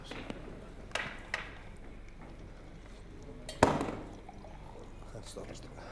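Water is poured into a glass at a panel discussion, with a few sharp glass clinks and a louder clunk amid a low room murmur and faint voices.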